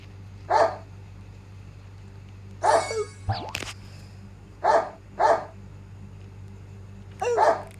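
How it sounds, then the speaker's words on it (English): A dog barks as a sound effect in a sound memory game, with five short, clear barks spaced irregularly across the clip over a low steady hum, plus a brief sliding tone in the middle. "Dog. Woof."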